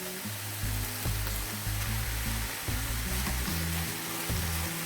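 Stewed pork with eggplant and vegetables sizzling and bubbling in a pan as it is stirred, a steady frying hiss with repeated low scraping strokes of the utensil, close and moderately loud, no talk.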